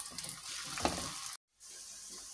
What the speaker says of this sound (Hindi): हल्की आंच पे इसको हम भूने पकाएंगे ताकि ये अच्छा सा गोल्डन हो जाए।